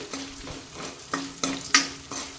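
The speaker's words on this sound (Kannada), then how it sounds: "ನಾವು ಇದನ್ನು ಎಲ್ಲವನ್ನು ಚೆನ್ನಾಗಿ ಫ್ರೈ ಮಾಡ್ಕೊಳ್ಳೋಣ ಎಣ್ಣೆಯಲ್ಲಿ" Masala ingredients for masala puri fry in hot oil with a soft sizzle, while a spoon stirs in a regular rhythm, its scrapes and light metallic clinks against the pan rising above the hiss.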